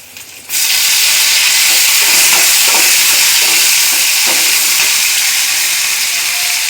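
Grated coconut and garlic hit a hot pan and break into a loud, steady sizzle of frying that holds strong throughout, with faint stirring scrapes underneath.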